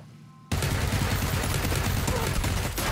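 Rapid automatic gunfire from the battle royale game PUBG bursts in after a brief lull and continues as a dense, loud, sustained volley for the rest of the moment.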